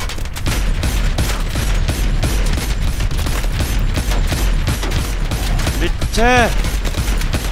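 Missile strikes and gunfire in the video game Call of Duty: Advanced Warfare: continuous heavy rattling shots and booming impacts fill the scene, with a brief whooshing streak near the end and a man's exclamation over the din.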